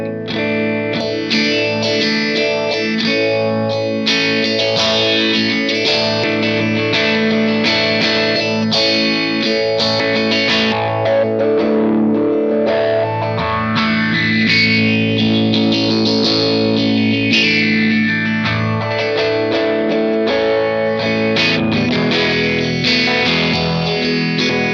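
An electric instrument runs through a vintage phaser pedal, either an MXR Phase 90, EHX Small Stone or Moog, with a sweeping swirling tone over sustained distorted notes and chords, loud and continuous with no talk.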